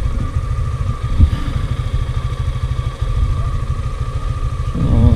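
A Suzuki Gixxer SF motorcycle ridden on a road at night, its engine droning steadily and loudly throughout with a constant rumble, close to the rider and without any talk.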